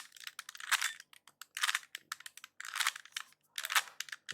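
A 3x3 Rubik's cube is twisted rapidly while being scrambled, producing close, crisp plastic clicking and clacking in quick bursts with brief pauses between turns.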